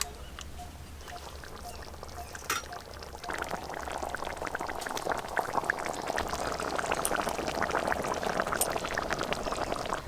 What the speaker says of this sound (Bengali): এবার একটু ঝোলটা ফুটিয়ে নিলেই রান্না হয়ে যাবে